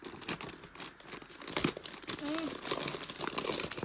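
Paper of an advent calendar window crinkles and tears in short bursts close by, with someone talking softly throughout.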